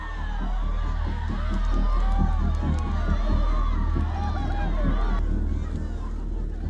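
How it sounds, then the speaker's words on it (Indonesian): Spectators cheer loudly at a Toraja water buffalo fight during a Rambu Solo funeral ceremony: a dense, continuous roar of shouting and whooping swells and stays strong for the whole stretch. "Sorakan penonton semakin kencang."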